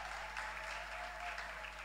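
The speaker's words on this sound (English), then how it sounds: "Clap them!" Faint, distant applause from the audience at a college quiz competition finals, a steady, muffled patter under a constant low electrical hum.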